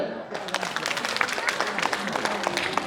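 An audience applauds a performer at a Tamil Thai Pongal celebration in Sweden, a steady patter of many hands clapping at moderate distance for the whole stretch, with faint voices underneath.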